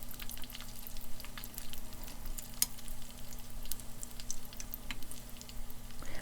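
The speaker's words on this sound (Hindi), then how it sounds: "इसको मीडियम टू फुल आंच में पकाएंगे तो ये with in 1 minute each side से गोल्डन ब्राउन हो जाएंगे" Chicken cheese balls deep frying in oil over medium to high heat, a steady close bubbling sizzle with dense crackling pops that carries on without a break.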